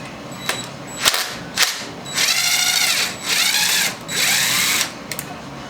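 A power tool whirs in short bursts, then longer spinning runs, while loosening the swing arm bolt on a 2021 Yamaha YZ250F motocross bike, close and loud in a workshop.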